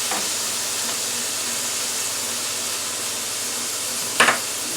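Steady hiss of beef fried rice with mushrooms and olive oil cooking in a pan, an even sizzle running throughout, with a brief clatter near the end.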